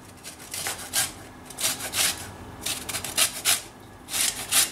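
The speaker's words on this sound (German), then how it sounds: "Jetzt reiben wir die Zitrone." A lemon is grated lightly for zest in a kitchen, the grater making short scratchy strokes in uneven bursts, close up and with no voices.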